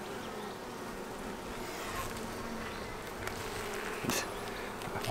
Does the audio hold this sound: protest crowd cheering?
no